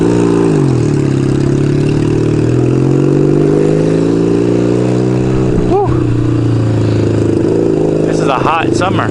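Motorcycle engine droning steadily and loudly while riding, a continuous low hum with slight shifts in pitch and a brief rev near the end, with wind rumble throughout.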